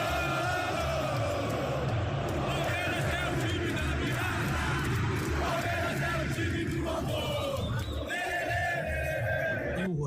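A football crowd of Palmeiras supporters at Allianz Parque roars in unison, a dense, sustained wall of massed voices that swells and holds throughout, loud and continuous with no pauses.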